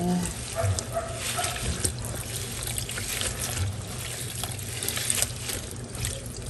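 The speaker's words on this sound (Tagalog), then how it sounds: "huhugasan ko lang po at pakukuluan natin" Cassava leaves are washed in water before boiling for lumpia, giving close sloshing and trickling with a running tap and occasional splashes and clunks, steady and moderately loud.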